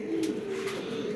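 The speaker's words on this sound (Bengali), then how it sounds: "এটা একটা বেদেনা চোখের কবুতর" Steady cooing from a pigeon with bedena (pearl-type) eyes at a pigeon seller's loft, a continuous low murmur held close and fairly even for about a second.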